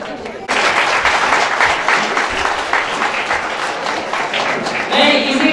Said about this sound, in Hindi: तो आप लोग ऐसे ही जोरदार तालियों से स्वागत कीजिए हमारे प्रधानाचार्य जी के लिए